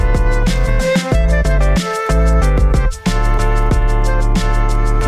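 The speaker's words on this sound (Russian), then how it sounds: "Самое главное, что он реально звучит олдскульно," An old-school hip-hop beat plays loud and continuous, with dense instrumentation, steady drums and a couple of brief drop-outs, no voices over it.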